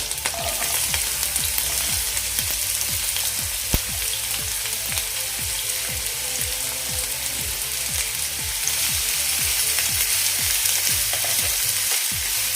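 Onion and green chillies frying in a pan, a loud continuous sizzle with rhythmic spatula scrapes repeating through the whole stretch, close and without talk.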